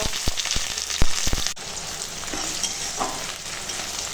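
Sliced onions, bay leaf and green chillies hit hot oil left from frying potatoes, giving a steady crackling sizzle close by, with a few sharp knocks and utensil taps at the start before the frying settles into an even hiss.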